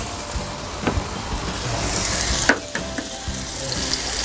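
An egg fries in hot oil in a pan for pad thai, giving a steady crackling sizzle with a few sharp clinks and scrapes of a utensil against the pan.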